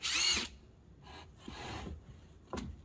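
A power drill drives a screw into a wooden deck stair stringer in short whirring bursts, fairly close, with no talking.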